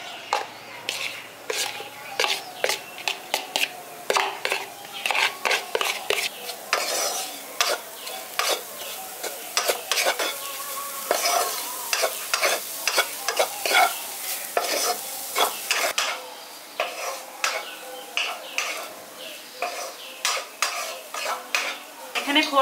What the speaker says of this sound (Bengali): এবার সবার প্রথমে এটা দিয়ে আমি একটু লালচে লালচে করে ভেজে নিচ্ছি।